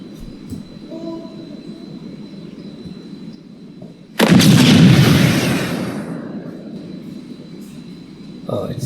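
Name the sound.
smoke grenade thrown and going off, Unreal Engine 5 game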